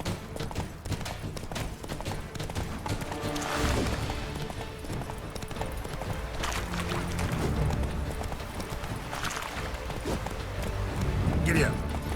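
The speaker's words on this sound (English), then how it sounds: "Come on, Roach" Hooves of the horse in The Witcher 3 clop steadily at a gallop, continuous and mid-level, mixed with game background noise and occasional rustles and thumps.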